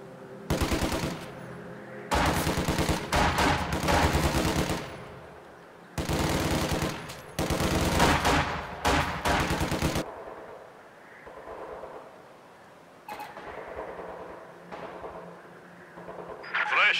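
Rapid machine-gun fire aimed at an engineer squad in the Company of Heroes 2 Moscow Lines mission comes in several long loud bursts, then gives way to quieter battle noise.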